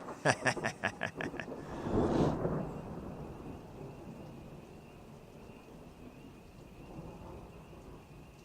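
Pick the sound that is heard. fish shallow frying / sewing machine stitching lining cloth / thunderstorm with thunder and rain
thunderstorm with thunder and rain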